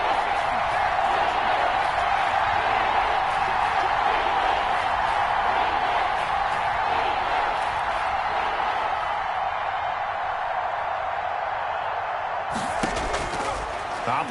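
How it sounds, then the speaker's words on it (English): Steady roar of a stadium crowd in a PS4 football video game, a continuous broad wash of cheering that swells slightly, with a commentator talking over it and a sharp burst near the end. "the crowd getting into it as we come up on a big third down"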